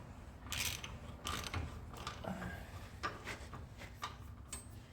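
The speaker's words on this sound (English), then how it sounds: "Get a ratchet." Hand ratchet clicking in short bursts while bolts are tightened on the rear suspension of a 1957 Chevrolet Bel Air, quiet and close, with brief pauses between strokes.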